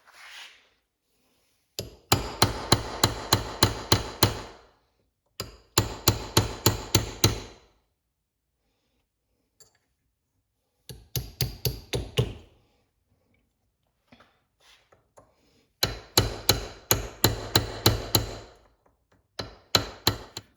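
A hammer strikes a chisel to drive out a transmission bushing, sounding as bursts of rapid, sharp metallic blows in quick series separated by pauses, close and loud.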